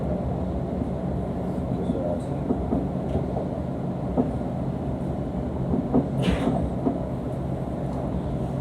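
A London Overground train runs between Liverpool Street and Enfield Town, its carriage rumbling in a steady, muffled drone with occasional clicks and faint background voices.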